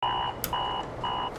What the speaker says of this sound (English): The alarm keeps buzzing